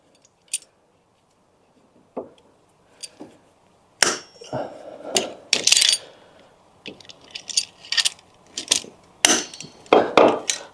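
Metal clicks and scrapes of a hose clamp being tightened onto a leaking fluid hose on a Ford Granada Mk2 2.8 Ghia X, sparse at first, then a busier run of close, sharp taps and ratcheting turns.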